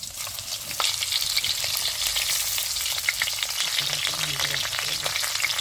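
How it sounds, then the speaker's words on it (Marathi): Stuffed bitter gourds sizzle in plenty of hot oil with cumin, a loud continuous frying hiss with a few crackling pops and no voices. "जिरं टाकायचं शिस्तीत असे तेलात सोडायची कारली"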